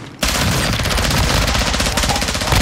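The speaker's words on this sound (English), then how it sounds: "Shotgun, bro." Shotgun fire in Call of Duty DMZ, loud and dense, breaking in suddenly after a quiet instant and continuing as a rapid, overlapping barrage of close blasts without pause.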